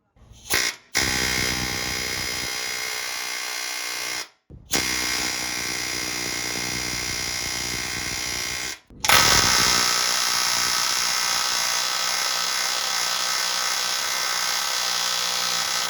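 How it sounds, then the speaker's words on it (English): A pneumatic air hammer rattles in three long, loud bursts separated by brief pauses, with a harsh buzzing chatter close by. "I'm gonna take this off with the air hammer that I bought"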